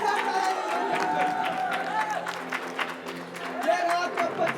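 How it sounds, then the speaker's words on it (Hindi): A television studio audience applauds for a guest's daughter, a fairly soft, steady wash of many hands with some crowd murmur, while a host's voice carries over the top throughout. "एक बार जोरदार तालियां इनकी बेटी आशा के लिए ladies and gentlemen"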